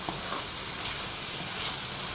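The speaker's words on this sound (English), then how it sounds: "So I'm just gonna saute." Onions sauteing Bajan-style in a pan for split peas rice and saltfish gravy, a steady close sizzle and frying crackle running evenly throughout with no talking.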